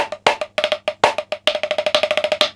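A 1994 drum-corps snare break, first bar played alone on a snare drum: a rapid, crisp run of sharp hits with accented rim shots, close and clear.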